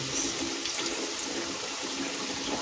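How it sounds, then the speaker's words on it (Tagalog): Water pours steadily from a tap into a cooking pot holding soy sauce and seasoning for a home-cooked dinner dish, a continuous close splashing rush with no pauses. "So, lagyan siya natin ng tubig guys."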